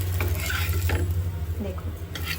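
Leftover kachori dough frying on a griddle, a steady close sizzle with a low hum underneath and a few soft scraping and stirring touches, no talk.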